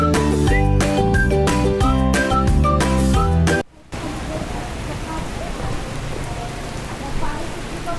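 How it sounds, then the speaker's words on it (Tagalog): Steady rain falling at a house, a dense even hiss that takes over after a loud stretch of music cuts off abruptly partway through. "Umuulan dito sa aming bahay."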